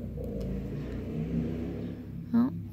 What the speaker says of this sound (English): The motorcycles are out.